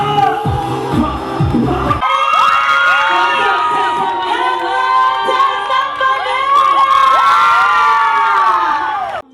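Loud, dense crowd of adults and children cheering, whooping and shouting continuously at a Filipino street food festival, with rising and falling yells overlapping throughout after a brief burst of nearby voices at the start.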